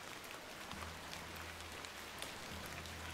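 Faint, steady rain falls in The Excavation of Hob's Barrow, a soft hiss scattered with tiny droplet ticks, while a low tonal hum sits quietly beneath it. No voices.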